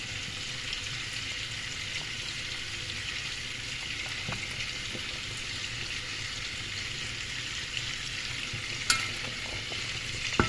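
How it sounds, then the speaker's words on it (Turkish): A steady bubbling, sizzling wash of boiling water with dumplings (Turkish manti) in a pot, continuous and close, with a couple of faint clinks near the end. "Boş mantımız kaynıyor."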